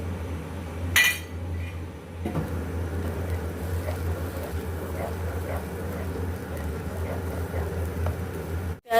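Blended onion frying with cumin seeds in a pan for an egg curry, a steady sizzling hiss with occasional clinks of a utensil against the pan.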